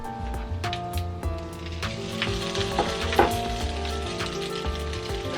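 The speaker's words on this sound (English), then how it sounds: "all I did was take the Uncrustable and dip it in both sides and then put it into the hot pan" An egg-dipped Uncrustable peanut butter and jelly sandwich sizzles loudly in a hot pan, a steady crackling fry with small pops close up, for French toast, no talk.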